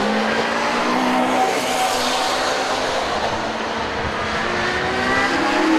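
GT race cars, including a Ferrari 458, at Donington Park in the 2013 UK GT Cup: a steady, loud roar of several engines passing close together, with tire noise.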